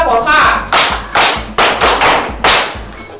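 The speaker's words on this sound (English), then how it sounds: "Clap for her." A group claps for a student at a school, with several bursts of hand claps and thumps that come in quick uneven waves, loud and close, while a voice talks over the start.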